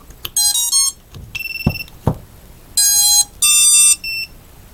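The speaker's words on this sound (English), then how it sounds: "And the buzzer's working too." A racing drone's buzzer when a 4S battery is plugged in on a 6S Monster Tanq build: a quick run of loud electronic tones and chirps, then two long sustained beeps and a short final one, close by and clear.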